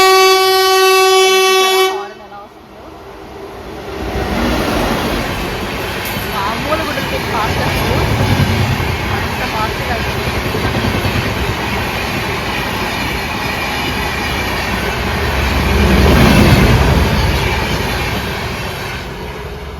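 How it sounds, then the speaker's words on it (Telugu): A fast train approaching Naktisemara railway station blasts a loud, sustained horn, then roars through with heavy rushing wheel noise that swells and fades. "ట్రైన్ వస్తుంది, చాలా ఫాస్ట్గా వెళ్తుంది ఇది."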